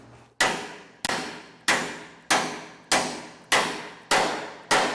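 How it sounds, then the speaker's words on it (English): Dead blow hammer striking a bolt on a trailer axle beam during an Easy Grease spindle installation, eight loud, evenly spaced blows, each ringing briefly before the next, close and alone. "So I'm gonna hit this with my dead blow."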